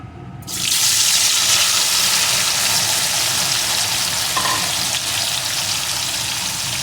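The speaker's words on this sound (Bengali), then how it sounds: "তেলটা গরম হয়ে গেছে, এখন লবণ হলুদ মাখানো মাছগুলোকে এর ভিতরে দিয়ে দেব।" Kuche fish coated in salt and turmeric drop into hot mustard oil and burst into a loud, continuous sizzle. The sizzle starts suddenly, then holds close and steady to the end.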